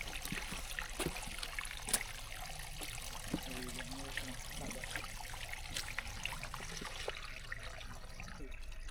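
Stream water pours into a bottle at a small waterfall on Kinder Scout in the Peak District, a constant close trickle and splash with a few brief knocks, with no voices over it.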